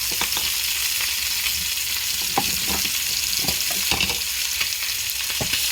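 Butter melts in olive oil in a pan with a steady, bright sizzle and scattered small pops and crackles throughout, close and continuous with no talk.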